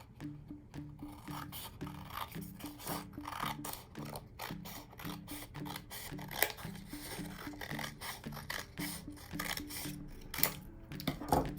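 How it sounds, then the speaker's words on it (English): Scissors snip through a folded sheet of paper while cutting out paper lizards, giving a steady run of crisp, rhythmic rasping cuts, close and fairly loud, with no talking. "Keep your paper folded and cut through both."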